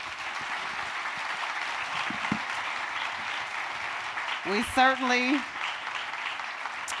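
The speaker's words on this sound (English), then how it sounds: "Round of applause for our candidates." Steady audience applause for mayoral candidates at a New Orleans forum on women and families, broad and continuous throughout, with a moderator's voice briefly speaking over it midway.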